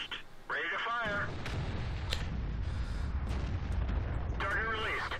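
A tank destroyer's main gun fires in World of Tanks, a single heavy booming shot with a long rumbling low tail, flanked by brief synthetic game radio chatter at the start and end.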